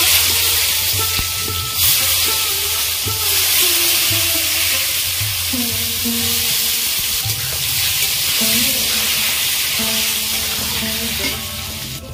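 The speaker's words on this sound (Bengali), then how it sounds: "বেগুনগুলো ভেজে নেব।" Eggplant pieces deep-fry in oil for a home festival feast, producing a loud, constant bubbling sizzle with intermittent stirring scrapes, close and steady throughout.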